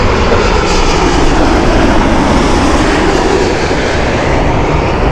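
An Air Canada jet at busy Heathrow Airport, a loud, steady, broadband engine roar that holds constant throughout, close and alone with no talk.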